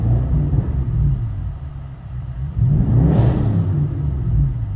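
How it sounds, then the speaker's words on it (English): Alpina B7 exhaust heard from inside the closed cabin, a muffled low rumble that swells into a rev around the middle before settling back to a steady drone. "When we go ahead and give it some gas, we can hear the exhaust tones a little bit."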